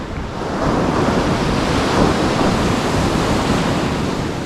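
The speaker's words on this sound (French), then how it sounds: "il y a des vagues elles sont vraiment violentes" Violent ocean waves surge and crash on a beach at Nusa Penida beneath cliffs, a loud, continuous roar of surf mixed with wind buffeting the microphone, with no voices.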